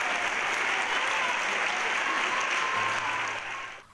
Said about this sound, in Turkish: Coşkuner'in bu hareketi salondakiler tarafından ayakta alkışlandı.